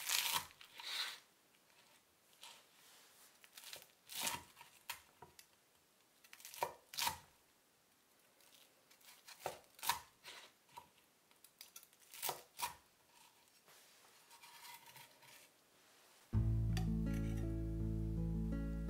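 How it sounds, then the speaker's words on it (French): Crispy fried chicken being chopped into pieces with a knife on a board, a steady run of sharp, crunchy cuts and thuds close by, after which a loud sustained tonal sound abruptly takes over at the end. "Je les coupe en morceaux."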